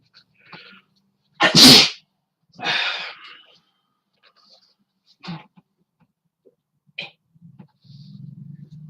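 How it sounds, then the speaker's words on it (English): A single loud, close sneeze bursts out after a short intake of breath, followed by a gasp, a sniff and a brief low murmur. "oh, I'm gonna sneeze."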